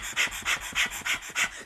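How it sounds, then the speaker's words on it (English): Breath of fire in kundalini yoga, done with the mouth open and tongue out: about six quick, forceful, panting exhalations in an even rhythm, close and breathy. "and it's our breath of fire."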